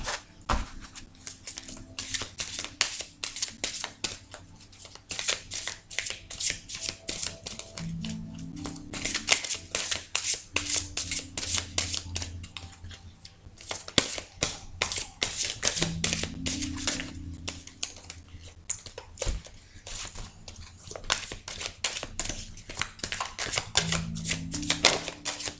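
Tarot cards for a card reading being shuffled again and again, rapid close riffling bursts in repeated rounds with short pauses between, crisp and papery, no talking over them.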